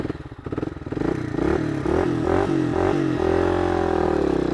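A motorcycle engine with a fault that makes it bog down under hard revving, loud and close, pitch climbing and sagging unevenly as the throttle is worked before settling into a steady drone.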